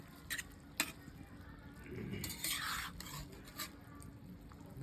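Mustard and cumin paste being stirred into sponge gourd in a pan, with soft scraping and rubbing strokes, a faint sizzle, and a few sharper clicks of the utensil against the pan.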